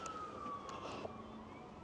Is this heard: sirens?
yes